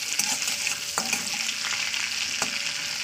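Halved dried red chillies fry in hot oil for chira pulao, giving a steady close sizzle with a few light clicks of a spoon stirring through it. Nobody speaks.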